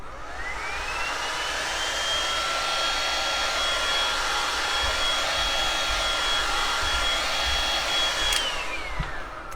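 A heat gun blows a steady, loud whoosh with a high whine at close range, warming Woodubend decorative trim for an attaché case makeover, running without pause and cutting off near the end.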